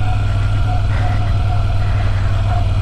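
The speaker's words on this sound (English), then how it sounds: "It's a very distinctive sound of that V-twin." Loud and close, a Moto Guzzi V7 Stone V-twin motorcycle engine holds a steady, deep rumbling beat for a few seconds, with no voices over it.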